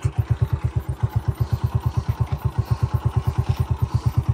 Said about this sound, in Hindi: ये बाइक स्टार्ट है तो उसका साउंड है